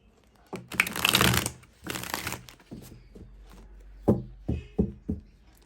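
Tarot cards drawn and shuffled from two decks: two long bursts of riffling shuffle, then a run of sharp, separate card slaps and taps, close and fairly loud.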